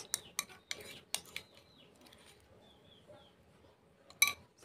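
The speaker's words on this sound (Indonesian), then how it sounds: "Sambil diaduk-aduk." A spoon stirs a thick chocolate mixture in a bowl, giving sharp metallic clinks and scraping taps against the bowl, irregular and close, with quiet pauses between strokes.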